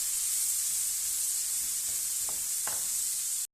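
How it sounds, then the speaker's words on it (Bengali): Chopped onion, garlic and chili frying in oil, a faint continuous sizzling hiss with a few soft clinks of stirring, heard alone. "পেঁয়াজটা আমি সুন্দর করে ভাজা নিতেছি"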